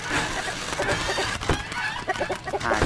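Chickens cluck repeatedly in the Lakeview Cabin Collection video game, a dense, steady flock clatter of game sound effects filling the room, with no one talking.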